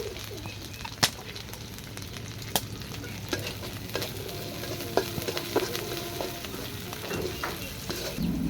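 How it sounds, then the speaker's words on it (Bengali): Onion and green chillies frying in a pan for chickpea curry, a soft continuous sizzle with scattered sharp clicks and scrapes of stirring, moderately quiet and with no voices. "আমার পেঁয়াজ কাঁচামরিচ ভাজা হয়ে গেছে"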